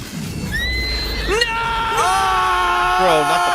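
A pony or horse lets out loud, close whinnies and neighs with rising and falling pitch, in several drawn-out calls one after another over a steady background.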